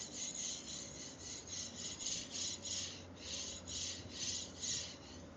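A faint, rhythmic rasping scrape repeats back and forth as a freshly oiled linear rail carriage slides along its rail, about eight strokes in a steady cycle.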